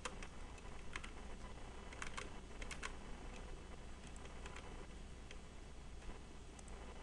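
Computer keyboard keys tapped in scattered bursts while working in Photoshop, light clicky presses over a steady low hum, near and moderately faint.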